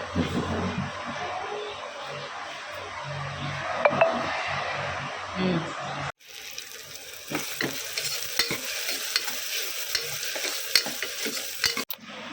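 Vegetables, a cashew-based dish, frying and sizzling in a pan while being stirred, a steady hiss with scraping clinks of the spoon, close by, and someone talking over it.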